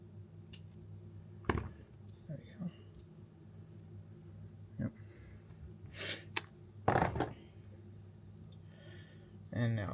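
Several sharp snips and clicks sound close and fairly faint as the prop guard fastening on a GepRC Cinelog35 V2 FPV drone is cut off, with breathing between cuts.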